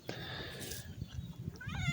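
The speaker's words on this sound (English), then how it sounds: "He's an old cat." An old, big, overweight cat meows close by in a drawn-out, wavering cry, rising again at the end over light background noise.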